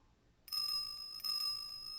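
A small bell on a dog's collar in the video game Ace Attorney Investigations 2 rings out clearly, two bright metallic jingles in quick succession, alone against silence.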